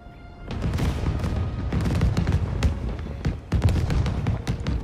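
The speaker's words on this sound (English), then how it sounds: "I feel like there's way more fireworks than there should be." Fireworks burst over and over in the Spider-Man 2 video game, with a dense run of sharp cracks and pops above a loud, continuous low rumble, and no pause for the whole stretch.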